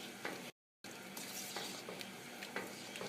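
Oil sizzles steadily in a pan as rice is stirred for Dominican-style rice and beans, with scraping stir strokes over the continuous hiss, broken by one brief silent gap.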